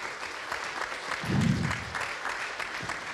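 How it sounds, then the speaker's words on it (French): Audience applause at a French panel debate on how the crisis is redrawing the world map, a steady wash of clapping throughout that swells briefly in the middle, heard from within the hall. "Je vous vois applaudir à tout va, Florence Parly"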